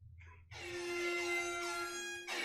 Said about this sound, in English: play an air horn sound